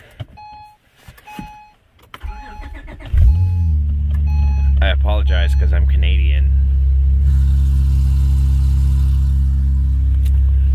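An Acura TL fitted with a throttle body spacer and pre-cat deletes fires up with a loud surge, then settles into a steady, deep idle rumble, after a few beeps and a brief spoken remark.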